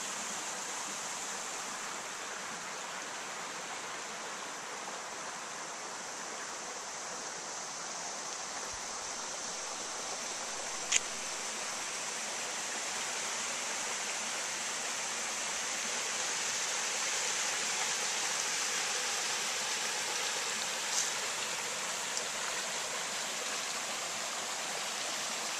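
Water flowing in a stream at a swimming hole gives a constant broad rushing hiss, steady and fairly loud throughout, with a couple of faint brief ticks and no voices.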